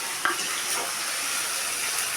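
Tomatoes added to a hot pan with onion and garlic, frying in a steady, close hiss of sizzling, with a faint clink near the start.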